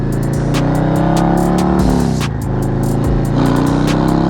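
Motorcycle fitted with a 9-inch smoked windshield cruising on a highway, a loud, steady engine drone with rising and falling revs and constant wind rush, no voices.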